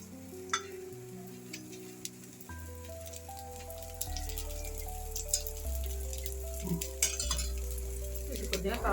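Crispy sago and moong dal pesarattu sizzling in oil on a hot pan: a steady crackling fry with scattered pops, and background tones running alongside.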